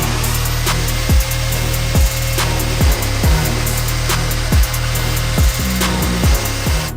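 A power cutting tool works through a Tang Tools wrench to make a custom tool, a steady loud drone broken by about eight short sharp bursts at roughly even intervals.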